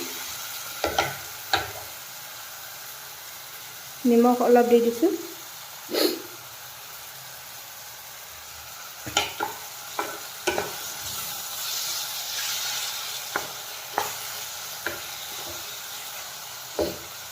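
Tomatoes frying in a pan for a local chicken curry, with soft stirring scrapes and a brief burst of sizzle, sparse utensil taps against a low background hiss, and a voice speaking briefly.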